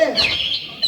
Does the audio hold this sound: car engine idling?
no